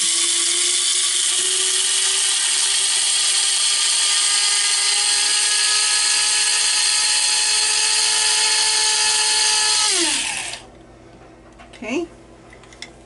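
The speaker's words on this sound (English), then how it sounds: "So here we go, grinding it." A small electric grinder whirs steadily at high pitch for about ten seconds as it grinds candy for a cake in an RV kitchen, then winds down, leaving faint handling noises.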